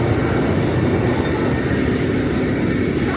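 Loud, steady rumbling roar of a roller coaster train rushing past nearby at Cedar Point amusement park by Lake Erie, a continuous heavy mechanical noise with no voices.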